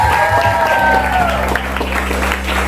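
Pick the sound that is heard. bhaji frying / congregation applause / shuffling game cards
congregation applause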